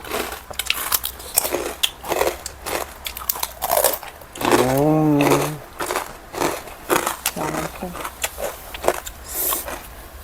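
Crispy pork rinds, home-made and fried in oil, crunched in rapid bites between bursts of Thai and Isan speech, the crackling chews close and fairly loud.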